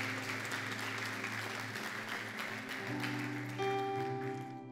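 Sustained, evenly dense applause fills a church during a Spanish-language service, carried over held keyboard chords that shift and swell near the end.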